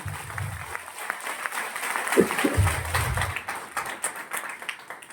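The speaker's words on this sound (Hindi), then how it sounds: "ताली जोरदार" Loud applause from an audience at a training session, a dense burst of clapping that swells in the middle and tapers off, with a few voices mixed in.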